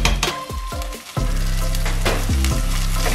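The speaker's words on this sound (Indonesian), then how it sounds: "Aduk lagi." A sauce with salt and pepper frying in a pan and being stirred, with sizzling and scraping utensil strokes against the pan, close and loud, no talking.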